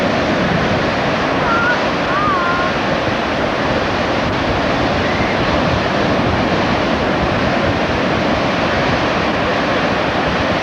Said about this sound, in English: Ah yes, the grace and beauty of the ocean.